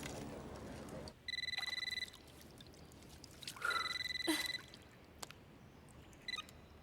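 A telephone rings in a Hindi comedy film scene, two clear electronic ring bursts with a short pause between, fairly quiet, followed by a few faint clicks and handling noises.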